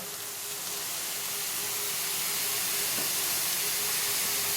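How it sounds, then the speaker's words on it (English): White wine poured into a hot pan gives a steady, loud hiss and sizzle that holds evenly with no talk, while a cook lowers the heat before building a sauce for an oyster bar dish. "Then we're going to add just a little bit of white wine."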